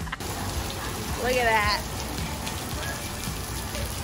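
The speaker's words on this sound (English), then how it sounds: "the rain is coming down" Steady rain falls outdoors as a constant hiss of drops on surfaces, with a brief louder burst near the middle and a short spoken remark over it.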